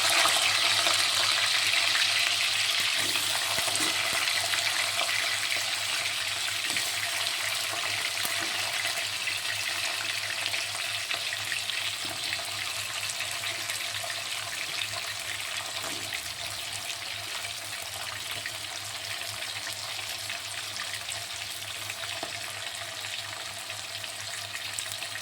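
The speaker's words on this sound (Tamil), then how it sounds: "பாருங்கள், நல்லா ஃப்ரை ஆகிடுச்சு. இன்னும் கோல்டன் ஃப்ரை ஆகணும்." Onions and green chillies fry in a pan for chicken biryani, a continuous close sizzle and crackle that holds steady for the whole stretch and eases slightly toward the end, with no voices.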